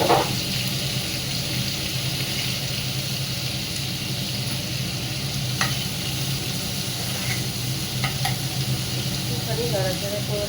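Fish sizzles and fries in hot oil with black cumin and turmeric while being stirred, giving a steady close crackle broken by a few scraping clinks of the utensil.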